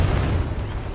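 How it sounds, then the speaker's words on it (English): Explosion hitting vehicle armor in the game Trailmakers, a loud, dense continuous boom with rumbling low end and crackle filling the whole moment. "Let's now see how well it goes against an explosion."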